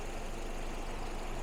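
A 2014 Toyota Corolla LE gasoline engine idles steadily and quietly, a soft continuous hum with a faint low rumble and no speech.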